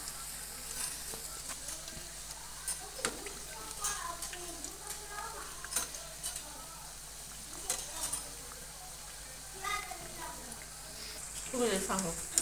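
Potato bhaji frying in hot oil, a soft steady sizzle with occasional stirring clicks and scrapes as the fritters are turned, with a voice talking over it.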